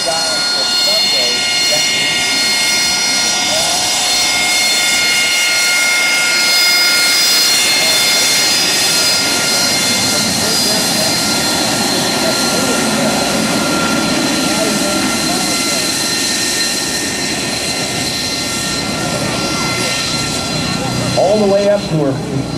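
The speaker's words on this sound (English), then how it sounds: "here goes the Harrier doing his run-ups right now on the runway" An AV-8B Harrier jet runs up its engine on the runway at a military open house, a loud sustained roar with high whining tones throughout, while a voice talks over it.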